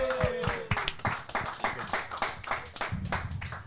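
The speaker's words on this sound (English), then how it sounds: "everyone in the house, clap it up for Isaac Updike" A small crowd claps for a track athlete during a post-race show at the USATF Outdoor Championships in Eugene. The claps are distinct and fairly quick, fading after a few seconds.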